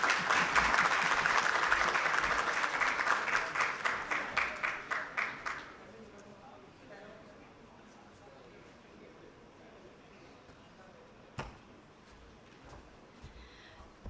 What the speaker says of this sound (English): Monis Bhai has gotten a bigger round of applause for his shairi than for his speech